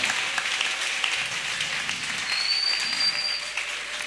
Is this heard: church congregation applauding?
yes